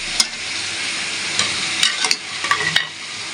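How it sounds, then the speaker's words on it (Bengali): Chicken coated in ground ginger, garlic and cumin paste fries and sizzles loudly in a pan, a steady hiss broken by sharp clacks of a spoon stirring near the end. "এবার আমি আবার ভালো করে কষাবো"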